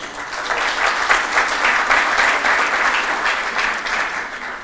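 Sustained audience applause at a business school graduation speech in Morocco, many hands clapping steadily and fairly loud for several seconds with no voices over it.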